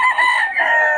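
A gamecock rooster of the Sweater bloodline crows at a market, one loud, close, sustained call heard plainly and alone.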